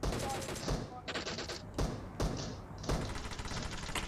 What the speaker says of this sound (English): Somebody is firing.